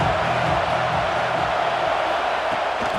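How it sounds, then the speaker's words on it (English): Stadium crowd noise in the football video game EA Sports College Football 26, a loud, dense, steady roar with faint cheering and no distinct voices. "This crowd bringing the energy and noise early."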